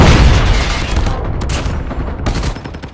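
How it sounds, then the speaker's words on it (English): In the shooter game COD Mobile, a grenade blast booms up close, followed by bursts of rapid gunfire that crack loudly over a fading rumble. "Watch out, grenade."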